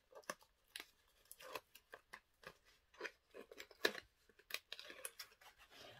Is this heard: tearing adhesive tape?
yes